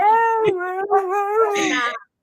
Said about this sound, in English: The other 2 are downstairs and they're howling too.